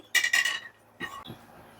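A heavy pot is set down on a lit stove, with two bright metallic scrapes followed by a duller clunk and shuffle, close and brief, with no voices.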